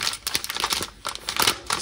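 A plastic bag of Cypriot coffee is handled, giving quick, irregular crinkling and rustling bursts close by, with brief pauses between handfuls.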